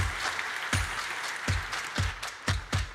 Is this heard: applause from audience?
yes